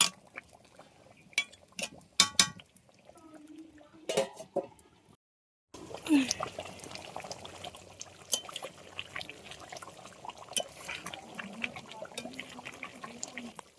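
Chicken chaap cooking slowly in a pan with a little water added, giving soft trickling, bubbling and faint crackling that continue close by with brief pauses and no talking.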